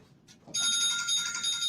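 A mobile phone ringtone starts abruptly after a moment of quiet and rings on steadily, bright and fairly close, with no voices.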